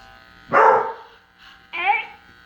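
A dog at home gives two sharp, close barks about a second apart, each breaking into a brief yelp, against an otherwise quiet room.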